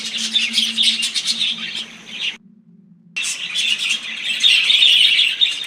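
Colorful budgerigars of the parakeet family chirp in a rainforest zoo enclosure, a dense, loud chatter of overlapping high tweets that breaks off briefly to near silence before resuming just as busily.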